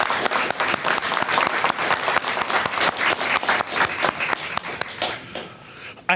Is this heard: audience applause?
yes